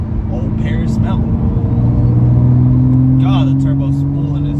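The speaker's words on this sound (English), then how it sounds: "God, the turbo spooling is just, I'll never get over that." A full bolt-on 2015 BMW 335i turbo spools with a steady engine drone and a faint rising whistle as the car pulls out of a turn, heard from inside the cabin while someone talks over it.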